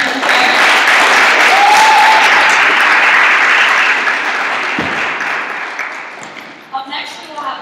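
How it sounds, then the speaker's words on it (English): An audience at a university music therapy club concert gives a round of applause for a performer: steady, loud clapping that slowly fades toward the end, with brief voices at the close. "give another round of applause for Aaron."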